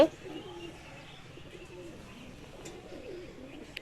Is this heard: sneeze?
no